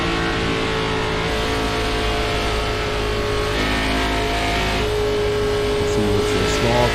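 Onboard engine roar of the Donald Dernitz race car lapping Homestead, a steady loud drone with shifting pitch as the car holds speed through the corners, continuous and close with no pauses.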